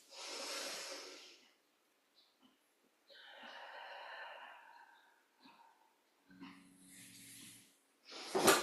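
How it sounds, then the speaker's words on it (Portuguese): Slow guided breathing: audible inhales and long airy exhales come in three or four separate breaths with silent gaps between them, close and moderately soft, and no talk. "Ou pela boca ou pelo nariz. Inspire e solta."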